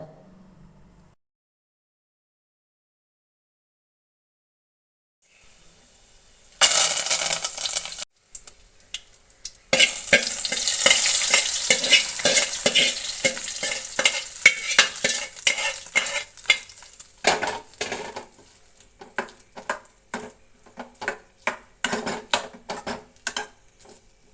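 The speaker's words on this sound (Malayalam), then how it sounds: "ഒരു ചട്ടിയൊക്കെ വെച്ച് നമ്മൾ കുറച്ച് കടുകൊക്കെ ഇട്ട് പൊട്ടിച്ച്" Loud, busy sizzling and crackling of mustard seeds spluttering in a hot pan, with dense popping bursts after a quiet start, easing into scattered spits.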